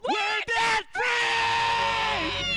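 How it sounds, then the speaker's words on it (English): People let out a loud, sustained celebratory scream on cue after paying off a large debt, starting with a short burst, then a brief break before one long, held yell that fades out. "Let's hear a debt-free scream."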